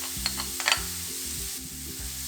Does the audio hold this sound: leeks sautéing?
yes